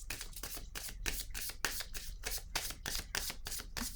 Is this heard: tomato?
no